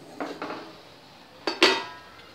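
A lid goes onto a pot of cooking oats payesh: two quick metallic clinks, then a louder clattering clank, close and otherwise quiet.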